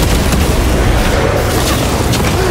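Grenade blast in Warhammer 40K: Space Marine 2, a dense roaring explosion and battle rumble sustained loudly throughout, with no voices on top.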